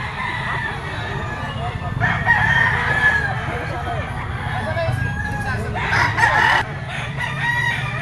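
Gamecock stags, including a white-legged white kelso, crow in drawn-out calls and cluck nearby over constant crowd babble and background chatter at a busy fowl sale.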